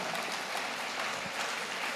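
A church congregation claps together in a steady, fairly soft wash of applause lasting a couple of seconds with no voices over it.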